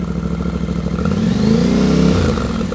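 A Yamaha Tenere 700 World Raid motorcycle revs through its rear exhaust, a loud, close throttle blip that climbs in pitch, peaks, then settles back toward a rumbling idle, with no talking.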